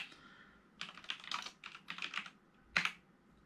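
Keys clatter on a Wyse-60 video terminal keyboard in a quiet room, a quick run of close, crisp typing strokes followed by one sharper keypress at the end.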